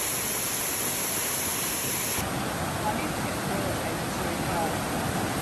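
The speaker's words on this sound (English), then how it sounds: "Uluru, the mountain in the desert, transformed into a giant wall of waterfalls after 46 mm of rain" Waterfalls pour off Uluru, the desert monolith, after 46 mm of heavy rain, making a loud, steady roar of rushing water that runs without pause.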